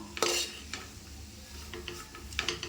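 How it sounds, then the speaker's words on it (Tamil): Mixed vegetables sauté in a pan for vegetable biryani, with a soft background sizzle broken by several sharp utensil scrapes and clinks against the pan. "இது கொஞ்ச நேரம் நல்லா வதங்கட்டும்"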